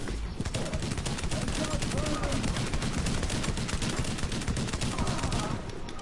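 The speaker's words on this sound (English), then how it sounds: "And we only can use a shotgun." Shotgun fire in the shooter game The Division, dense rapid bursts of gunshots pounding continuously at close range, with a voice talking faintly underneath.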